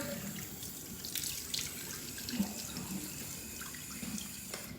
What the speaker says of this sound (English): then I rinse it underneath the water, rubbing it against my hand like this, so it removes any of the residue